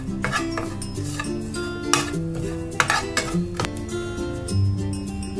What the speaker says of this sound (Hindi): खसखस के बाद मैं डाल दूंगा गरी बुरादा, जो कि नारियल का बुरादा होता है, वो डाल देंगे हम, और उसे भी हल्का सा भूनेंगे।